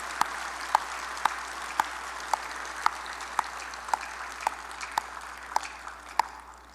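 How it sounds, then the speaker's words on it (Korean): A church congregation clapping in a worship service: sharp, evenly spaced claps in a steady rhythm, about two per second, over a soft wash of room noise. "우리 영광의 박수 돌립시다"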